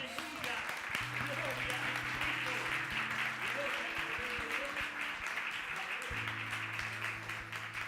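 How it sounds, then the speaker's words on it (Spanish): Sustained applause from a church congregation fills the space, a dense steady clatter of clapping with voices and background music underneath. "¿Quién le da un aplauso a Jesús?"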